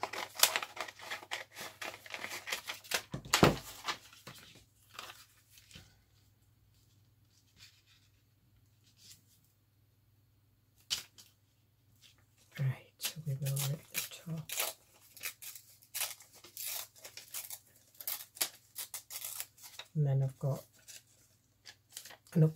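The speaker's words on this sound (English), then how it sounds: "so I will cut this piece out" Scissors cutting a piece of paper for a travel journal, crisp snipping and rustling that comes in bursts, some near and loud, with quiet stretches between.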